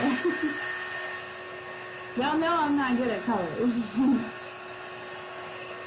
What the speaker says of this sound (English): we're gonna blow dry this